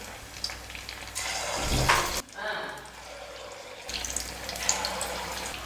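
Batter-coated poornam dumplings deep-frying in a kadai of hot oil, a broad steady sizzle that swells briefly, dips, then carries on loud and close.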